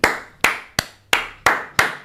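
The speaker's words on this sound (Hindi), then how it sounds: "तालियां बजती रहनी चाहिए" Six sharp hand claps at an even, unhurried pace, close by and alone, each ringing briefly before the next.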